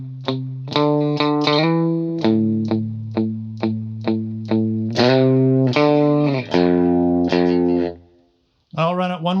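An electric guitar plays a steady run of picked notes with a shimmering chorus and slight grit, moving through lower notes before a short pause.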